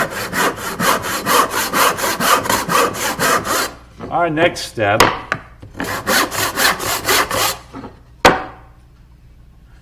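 Steady back-and-forth strokes of a handsaw cutting through wood, rhythmic and close, pausing briefly midway while someone says a few words.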